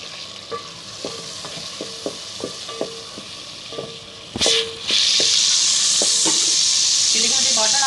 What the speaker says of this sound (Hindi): तेल मेरा गर्म हो गया तो मैं गोश्त डाल रही हूँ।